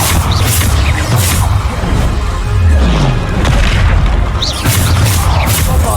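Repeated booming blasts from the Bombarda spell in the Hogwarts Legacy game, several loud explosions about a second apart with crashing debris, while a player shouts the spell name over them.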